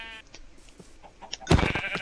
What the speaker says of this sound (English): I kill sheep for their wool.